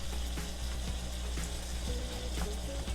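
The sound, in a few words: ground meat browning in a pan for chili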